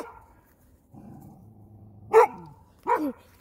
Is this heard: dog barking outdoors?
yes